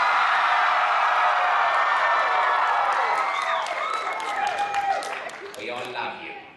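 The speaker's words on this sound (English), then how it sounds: "the audience would like to cheer for you right now so that they can support you in your efforts to get better." A convention panel audience cheering and applauding, a dense crowd roar of clapping, whoops and shouts that holds steady and then starts to thin out toward the end.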